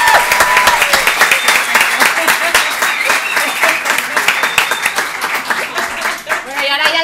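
A conference audience bursts into loud, sustained applause, with dense clapping from a full room that carries on for several seconds, and voices briefly rise over it near the end.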